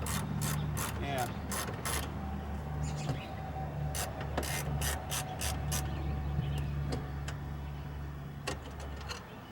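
A ratchet wrench works on the clutch pedal bolts of a Ford truck, bursts of quick clicking ratchet strokes with pauses between them, close and fairly quiet over a low background hum.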